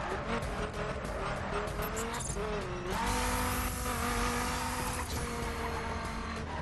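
A car drifting in the video game The Crew, engine revving with pitch sweeps and a sustained tire squeal through the slide, loud and continuous with shifting gears midway.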